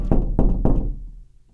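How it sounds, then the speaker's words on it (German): Three firm knocks on a door sound in quick, even succession for an audio drama scene, close and resonant, each with a short hollow decay before silence. "Dann klopfen wir."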